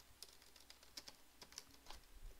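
Quick, light keystrokes on a computer keyboard, a brisk irregular patter of clicks, quiet and close with no voices.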